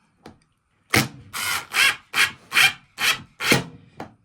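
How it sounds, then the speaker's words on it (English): Screw being driven into a wooden farmhouse shelf board, heard as a series of seven rough, grinding bursts in a steady rhythm, close and fairly loud, with a couple of lighter taps at the start and end and no talk. "I'll screw that down in there."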